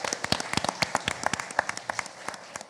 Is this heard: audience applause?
yes